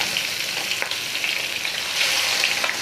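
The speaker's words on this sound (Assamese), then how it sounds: "এতিয়া মাছখিনি মই দি দিছোঁ ইয়াতে" Pieces of katla fish frying in hot oil over a lowered gas flame, a loud, dense crackling sizzle that holds steady throughout with small pops, no talking.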